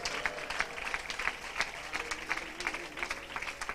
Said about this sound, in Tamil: ஜோர ஒரு கைத்தட்டு கொடுத்துருங்க.